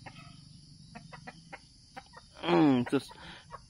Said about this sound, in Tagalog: hiniram ko lang to itong lalaki na na manok